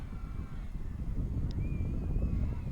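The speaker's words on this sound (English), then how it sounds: "The wind's gusting a little bit." Wind gusts at an outdoor junior women's ultimate frisbee quarterfinal, a steady low rumble of air buffeting the microphone that stays fairly loud throughout, with no voices in the brief stretch.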